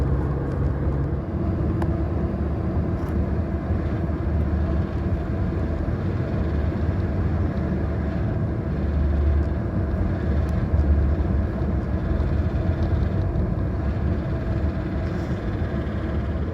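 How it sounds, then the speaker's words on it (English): Highway traffic about nine miles outside Kansas City, Kansas, a steady, dense roar of passing vehicles and road noise that stays even throughout, with no talk. "This is certainly the most traffic I've hit since Atlanta."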